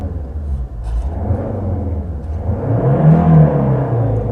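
A Volvo S60 Cross Country engine idles and then revs up toward 5000 RPM, its rumbling pitch climbing and falling, heard from inside the car with no voices.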